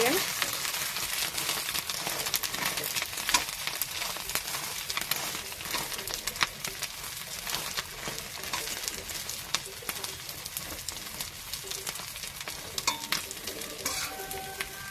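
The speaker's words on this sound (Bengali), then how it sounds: "এবার হালকা হালকা করে একটু ভাজা হোক এই দেখুন আমি উল্টে দিচ্ছি" Egg toast fries in a pan, a steady crackling sizzle throughout with scattered sharp ticks as the slices are flipped and pressed, and faint bird cooing in the background.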